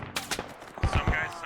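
Gunfire in the military shooter Squad, with bursts of rounds thrown at a checkpoint; several sharp low thumps land in quick succession near the end, after a quieter stretch with talk underneath.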